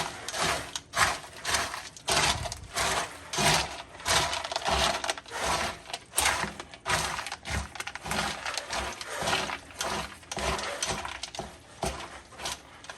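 Dog food with pumpkin is mixed by hand for outdoor American Bully dogs, making a continuous close-up squelching and rustling with uneven bursts and no talking.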